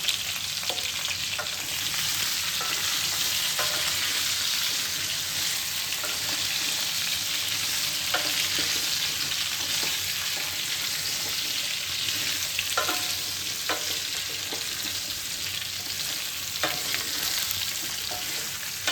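Bengali sweet and spicy mango pickle with jaggery is stirred in a hot pan, with a continuous sizzle and frequent sharp scraping strokes of the spoon at an irregular rhythm, close and clear.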